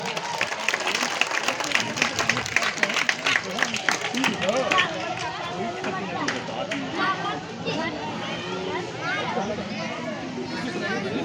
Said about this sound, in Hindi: तालियों से स्वागत किया जाए।